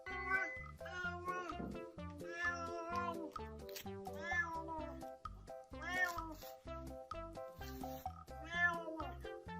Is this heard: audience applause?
no